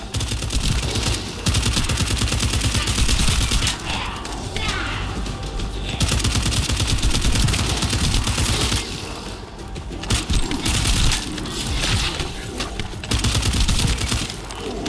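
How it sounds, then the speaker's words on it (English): Sustained automatic gunfire in The First Descendant video game, dense loud bursts of rapid shots with thuds and impacts filling the whole stretch, briefly easing before resuming, with faint voices underneath. "That stopped the gunfire."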